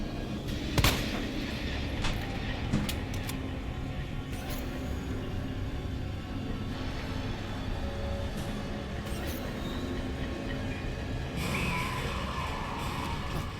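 Weapons fire in the video game Resident Evil 2, with a few sharp shots spaced irregularly over a constant rumbling game background.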